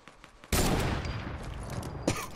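Gunfire in the Fortnite video game: a sudden sustained burst of shots, then a separate sharp report, fairly quiet overall.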